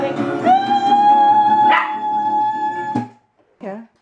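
A dog howls in a long, sustained tone with a brief yelp partway through, followed by a short whine after a pause.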